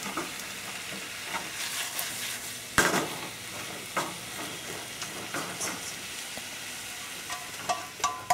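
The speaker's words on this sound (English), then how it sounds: "I see you're stirring it and shaking it at the same time." Onions frying for Japanese curry sizzle steadily in a pan while being stirred and shaken, with scattered utensil scrapes and taps and one louder knock near the three-second mark.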